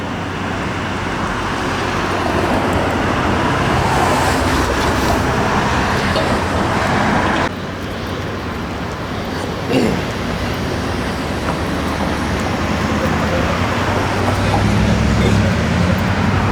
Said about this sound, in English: It's only roughly 10 o'clock, so there's still a lot of traffic.